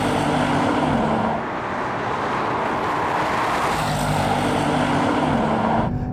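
A BMW M760Li, Tesla Model S and Audi RS6 racing side by side produce a loud, steady roar of engines and road noise with a slowly shifting droning tone, close and continuous throughout.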